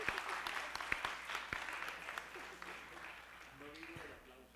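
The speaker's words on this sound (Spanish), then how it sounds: "Un aplauso para Fernando." A panel audience gives a speaker a modest round of applause, scattered distinct claps over a soft room wash that gradually dies away as a voice begins to talk.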